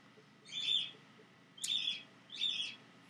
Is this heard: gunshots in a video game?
no